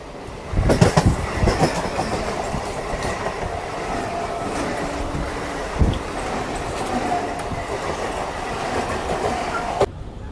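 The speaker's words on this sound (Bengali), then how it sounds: "আর একটা ট্রেন আসছে।" A train rolls in with a rising rumble and rhythmic clickety-clack of wheels, heavy thumps near the start, steady and fairly loud throughout, heard from a local train leaving Sealdah station, Kolkata.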